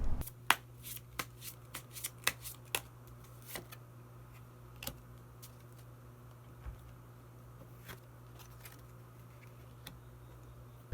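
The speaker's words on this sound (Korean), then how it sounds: "그러면 마지막으로 히든 카드 한 장 더 뽑아보도록 하겠습니다." Tarot cards being shuffled and drawn, with a series of crisp card flicks and snaps close by, clustered early and then sparser, over a steady low hum in a quiet room.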